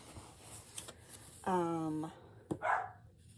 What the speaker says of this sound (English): She's just gonna keep barking.